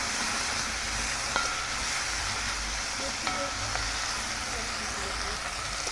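Vegetables sizzling in a hot pan with added seasoning while cooking Jamaican brown stew fish, a continuous bright frying hiss with a few faint clicks of stirring, steady and close.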